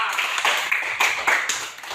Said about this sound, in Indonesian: Mari kita tepuk tangan buat Cika.